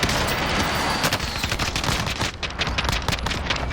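Pistol gunfire in the Call of Duty: Warzone video game, a steady string of rapid, loud close shots over constant battle noise, with no talking.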